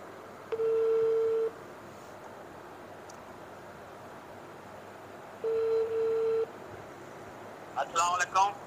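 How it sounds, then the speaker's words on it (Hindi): Ringback tone on a mobile phone while dialing a call, two long steady beeps about four seconds apart over a quiet background, followed by brief chirpy sounds near the end. "वसीम भाई का नंबर मिलाओ"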